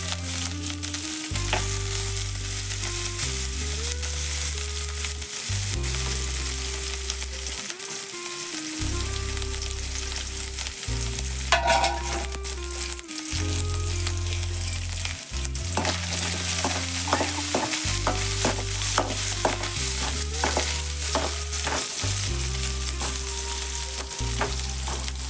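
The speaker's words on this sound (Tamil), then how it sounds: "1 கப் தேங்காய் எடுத்துருக்கேன். இதை நல்லா பொன்னிறமாக வர அளவுக்கு வறுத்துக்கணும்." Grated coconut frying in hot oil, stirred steadily until golden, in a Kerala-style beef roast preparation: a constant close sizzle with rhythmic scraping strokes of a spoon against the pan, accompanied by recurring background music.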